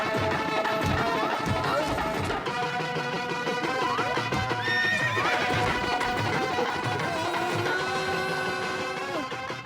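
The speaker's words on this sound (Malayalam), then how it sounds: "കുതിര ഓടിപ്പോയി" In a Motu Patlu cartoon wedding scene, a horse neighs repeatedly while its hooves clip-clop at a gallop, loud and busy over a dense background.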